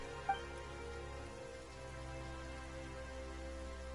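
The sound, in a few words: sudden rain in the video game Genshin Impact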